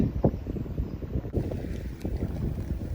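Gusty wind buffeting the microphone beside a narrowboat on the River Nene, with irregular low rumbling bursts and a rough, blustery texture that never settles.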